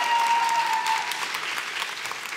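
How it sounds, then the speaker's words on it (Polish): Audience clapping at a school talent show in Mysłowice, a dense burst of applause from a crowd that carries on steadily for a couple of seconds. "Oklaskajmy ją jeszcze."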